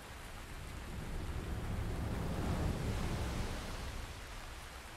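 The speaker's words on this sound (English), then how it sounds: "Oh, that rain sounds." Steady rain falls in the Breath of the Wild game world, a dense broadband hiss that swells gently toward the middle, with low rumbling that suggests distant thunder and no voices.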